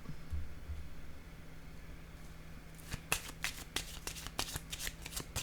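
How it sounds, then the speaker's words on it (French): Tarot cards being handled and laid down on a surface, a low steady hum giving way to a run of crisp, close slaps and flicks in quick irregular succession, with no talking. "Je vais déposer une carte entre ces deux-là."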